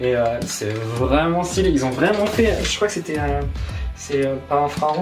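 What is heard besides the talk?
None of the usual background noises is heard.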